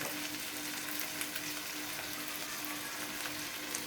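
Spice powders are stirred in a hot oiled frying pan while making jujube pickle, giving a steady close sizzle with soft scraping throughout and no talking.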